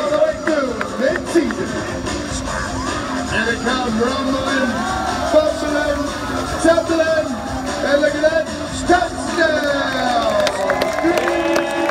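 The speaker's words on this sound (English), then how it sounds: "let's cheer them on and make" Audience at Tommy Bartlett's Ski & Water Show in Wisconsin Dells cheers, whoops and shouts in a steady, dense roar of many voices, with children's cries and scattered claps mixed through the full twelve seconds.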